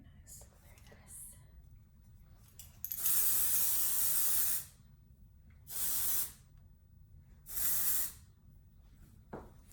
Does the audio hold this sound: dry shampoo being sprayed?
yes